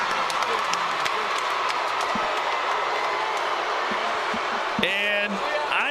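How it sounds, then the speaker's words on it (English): Boxing arena crowd cheering and applauding in a steady, dense roar that fills the space, with scattered claps and shouts and a sharp whistle-like call near the end. "The crowd showing their approval and their appreciation."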